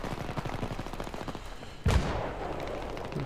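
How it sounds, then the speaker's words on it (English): One sharp single gunshot cracks out in the video game Battlefield 3, a sudden loud burst over a busy background of rapid game noise, then a brief decaying tail. "Going to do a single shot now."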